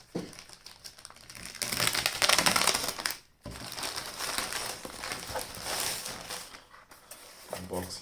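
A packaged wireless microphone box is unboxed, with close crinkling, crushing and tearing of packaging in bursts and a short pause midway.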